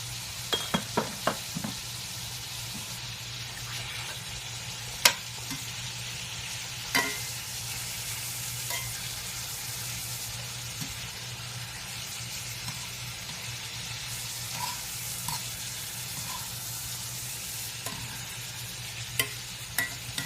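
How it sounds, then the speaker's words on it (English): Chicken fries in basil olive oil in a pan, a steady close-up sizzle and crackle running throughout, with a few sharp taps and pops scattered over it. "And just let it cook until it gets a nice brown on both sides."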